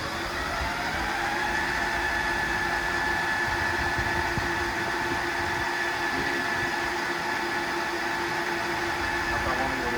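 A Monarch 10EE precision toolmaker's lathe with rebuilt electrics runs at a constant speed, a steady mechanical hum and whine that holds even and unbroken throughout, with no voices.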